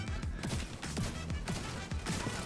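Gunfire from The Division 2 rings out as fast repeated shots and bursts, loud and close, filling the whole stretch without a break.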